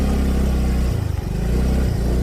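A Yamaha Mio Gravis scooter engine labouring off-road on muddy ground, a loud, close, steady drone that dips and surges as the throttle is worked, with no talk.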